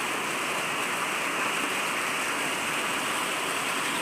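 Steady rain pours down on a warehouse unloading area in a dense, even hiss with no breaks, close and continuous, with no voices.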